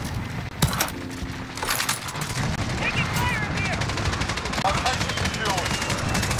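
Rapid gunfire and sharp shots in the Modern Warfare video game, with loud cracks early on and continuous battle noise and mechanical clatter throughout, under a player's voice chatter.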